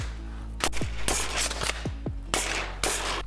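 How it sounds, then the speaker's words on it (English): A double-barrel Caliburn foam dart blaster fires several sharp, close pops in quick succession, each with a brief spring twang and plunger thud, heard alone with no talk. "Or you can pull the entire trigger for a double shot."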